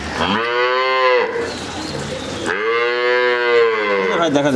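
A dairy cow gives two long, loud, close moos separated by a short pause, the second call rising and holding steady, with no speech over it.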